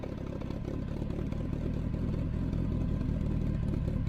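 A DSM car engine warming up at idle gives a steady, close, low rumble with a faint mechanical clatter, unchanging in level with no talking.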